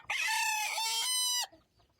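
Close and loud, a rooster crows in one long, strained, harmonic call with a brief dip midway, then falls quiet, with no voices over it.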